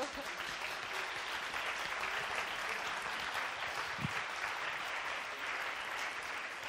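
An audience claps steadily for a birthday at an evening company event, a dense, continuous round of applause that holds at an even level from start to finish with no voices standing out.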